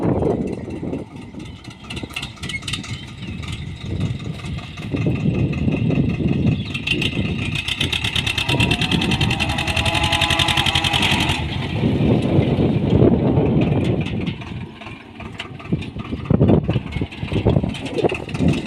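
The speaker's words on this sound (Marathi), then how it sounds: "चला तर ट्रॅक्टर चाललेला आहे रानात." A tractor engine chugs steadily and close by, a loud rough diesel rumble that rises and falls slightly throughout.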